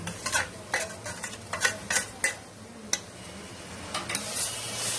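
Ginger garlic paste frying with onions in a pot for mutton biryani, stirred with a spoon: steady close sizzle with repeated scraping stir strokes and light metal clinks, no talking.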